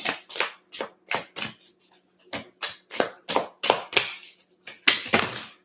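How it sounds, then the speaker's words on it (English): Tarot cards shuffled on a hard, loud surface, giving a close series of about a dozen quick riffling bursts in a steady rhythm, with brief pauses between, and no talk. "Sorry, this is really loud to shuffle on."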